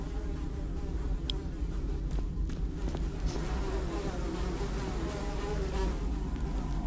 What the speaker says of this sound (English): Despite the buzzing flies, you hear the faintest sound of rushing water